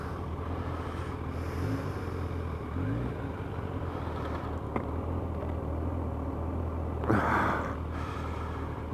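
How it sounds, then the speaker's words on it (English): Kawasaki ZZR1100 motorcycle on a toll road as the throttle is opened, a steady loud engine and road roar with a brief surge near the end. "This is where you get to open the throttle a little bit."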